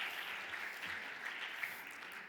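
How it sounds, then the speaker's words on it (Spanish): A seated panel audience claps for a speaker at a green hydrogen regulation forum, a brisk, even burst of many hands lasting a couple of seconds. "Un aplauso para Juan Pablo."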